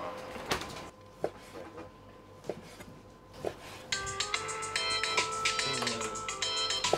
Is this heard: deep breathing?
no